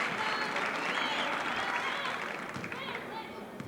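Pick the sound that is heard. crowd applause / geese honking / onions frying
crowd applause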